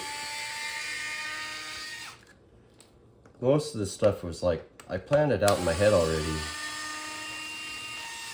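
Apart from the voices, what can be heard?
power drill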